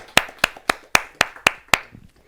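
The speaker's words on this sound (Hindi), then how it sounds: "इनका जोरदार तालियों के साथ अभिनंदन" A few hands clapping at a Hindi poetry gathering to welcome a poet, seven sharp, evenly spaced claps close by, then quiet.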